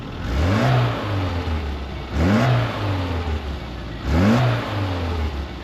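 A 1992 six-wheel Mini Moke engine revs up three times in a steady rhythm, each rise climbing in pitch and then dropping back as the gears change, close and loud while it drives off.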